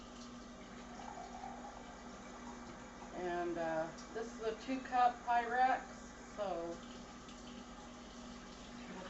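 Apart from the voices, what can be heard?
water poured into hot pan, sizzling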